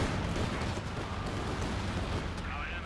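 Dense rumbling gunfire and blasts from a close air support strafing run in Company of Heroes 2, continuous heavy fire with a voice talking over it.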